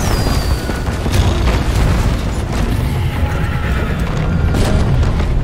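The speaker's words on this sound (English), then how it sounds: "That's some grenades." Grenades exploding in Deep Rock Galactic, a continuous loud rumbling roar of booms and debris with no clear gaps, close and dense, filling the whole stretch.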